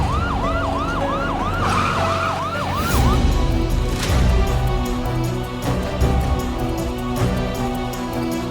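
Ambulance siren wailing in a repeating rising-and-falling pattern, loud and near at first, then giving way to busy street traffic noise while the siren continues faintly underneath.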